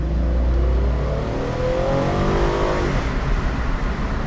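A rental car accelerates hard on a California canyon road, its engine droning loud and continuous from inside the cabin with a rising rev tone that climbs, then settles into a steady roar.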